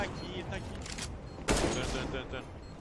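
Gunfire in a Counter-Strike-style shooter match, one sharp report at mid-clip over a constant busy game mix with voices chattering throughout.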